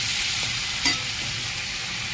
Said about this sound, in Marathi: आलं लसणाची पेस्ट परतून घ्यावी